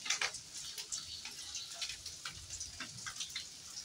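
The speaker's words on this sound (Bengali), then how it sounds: "বৃষ্টি রিমঝিম পড়ে" Steady light rain falls outside, a soft continuous patter with scattered drips and ticks, heard faint and close with no talking.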